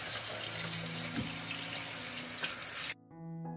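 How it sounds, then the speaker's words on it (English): Water pouring steadily over washed strawberries, a continuous close rushing splash that cuts off abruptly near the end, leaving a faint hum. "Pour water over the washed strawberries and let them stand in the water for 20 minutes"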